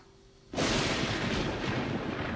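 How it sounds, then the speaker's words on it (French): A sudden loud thunder boom erupts after a quiet moment in a children's cartoon and rolls on as a dense, sustained rumble. "Et quand le tonnerre fait boum, on s'arrête."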